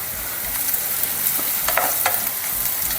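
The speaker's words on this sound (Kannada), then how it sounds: "ಅರಿಶಿನ ಹಾಕ್ಕೊಂಡು ಸ್ವಲ್ಪ ಮಿಕ್ಸ್ ಮಾಡಿಕೊಂಡು" Golden-brown onions with turmeric being stirred in a hot pan, a quiet sizzle under a few scattered spoon scrapes, with no one talking.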